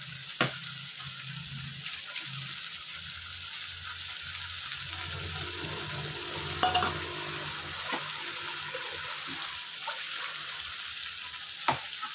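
Spice paste for an eggplant curry fries in oil in a pan, a soft continuous sizzle with scattered clicks of a spoon against metal, one brief louder clatter midway.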